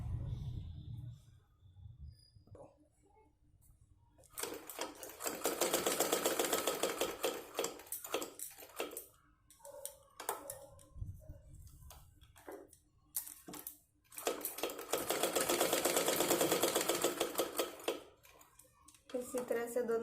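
A sewing machine stitches together the sleeves of a small net doll dress, running in two sustained bursts with quieter handling and fabric sounds in between.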